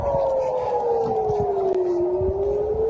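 Civil defense air raid siren sounding over Israeli cities, a steady loud wailing tone that slowly falls and then begins to rise again, continuous with no pause.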